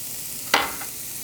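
Minced garlic hits a hot pan with spinach, giving one short, bright sizzle burst that fades over about half a second against quiet kitchen background.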